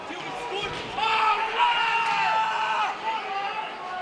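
A high school hockey crowd cheers and roars in an arena during a WHS versus Colonia game, swelling loudly for a few seconds before easing, with a commentator talking over it.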